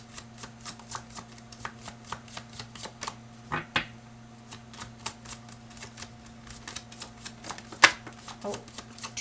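Tarot cards being shuffled up close, a steady series of soft riffling snaps and taps with a few brief pauses, over a low constant hum.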